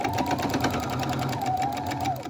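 A sewing machine back-stitches a fabric face mask with a filter, giving a fast, even mechanical chatter close by that runs without a break.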